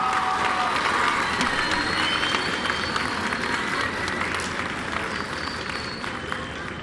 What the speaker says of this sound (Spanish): Un aplauso a la presidenta.